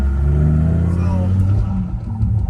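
1998 Dodge Viper GTS cruising on a highway, its engine a loud, close, deep drone with a brief rising rev, under steady road noise while someone talks over it.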